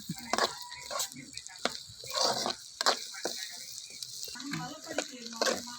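Potatoes frying in a kadai make a faint, close sizzle broken by scattered clinks and scrapes of stirring, with no voices.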